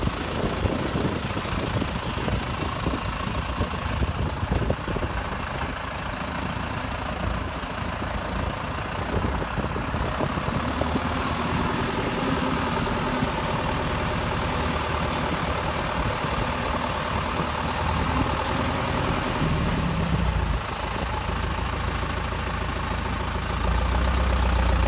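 An Ursus C-360 Turbo 4x4 tractor engine runs loud and close for the whole stretch, a rough rumbling drone that revs up and settles with slight shifts in pitch, no talking.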